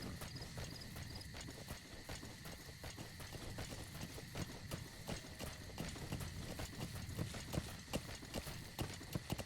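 Horse hooves clip-clopping at a run in the video game Metal Gear Solid V, a steady close rhythm of hoofbeats over a busy background of in-game ambience and sound effects.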